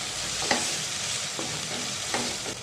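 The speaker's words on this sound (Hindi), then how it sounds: "कीमा फ्राई हो रहा है टमाटर के साथ" Beef keema fries with tomatoes in a pan, giving a constant close sizzle broken by three scraping stirs of a spoon, spaced roughly a second apart.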